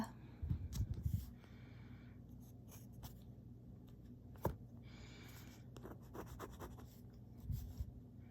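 Nib of a Lamy 1.1 stub fountain pen scratching across paper with Diamine Espresso ink, soft close strokes at an irregular pace over low room hum, with a few louder scratches.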